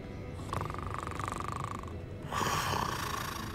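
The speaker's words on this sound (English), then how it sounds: "Goblin banker snoring." A goblin banker snores in Hogwarts Legacy, a low, soft, rumbling breath that draws in and then releases as a fuller snort, fairly faint in a quiet room.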